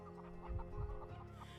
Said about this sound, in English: Chickens. I can hear a lot of chickens.